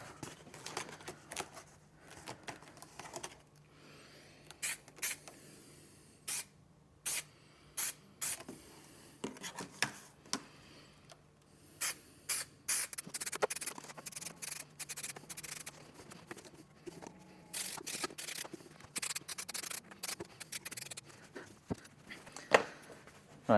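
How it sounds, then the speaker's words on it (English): Spray adhesive is applied to a van wall ahead of carpet lining, heard as quiet repeated short bursts of spraying in an irregular rhythm against a soft background, close by and with no talk. "now we're just going to glue from the tape line up"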